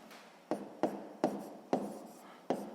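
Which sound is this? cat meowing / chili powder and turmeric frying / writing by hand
writing by hand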